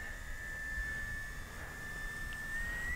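An FMS Kingfisher radio-controlled model plane cruising at about half throttle: a steady, thin whine from its small electric motor, faint and distant, holding an even pitch throughout with light background hiss.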